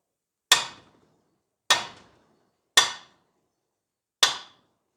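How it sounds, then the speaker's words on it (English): Four sharp metallic hammer strikes on a welded steel joint of a 1998 Toyota Camry demolition derby car ring out one at a time with pauses between them, each clang decaying quickly into silence. "Let's give it a good old whack of a hammer."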